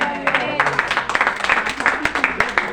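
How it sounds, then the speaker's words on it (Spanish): A church congregation claps during a sermon, scattered distinct hand claps under a preacher's voice and crowd murmurs. "Muchos solteros aquí aplaudiendo"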